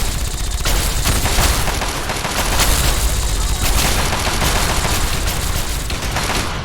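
Rapid, loud, continuous gunfire in Fallout 3 on PC, aimed at a scorpion, with dense bursts of shots filling the whole stretch and a voice faintly underneath.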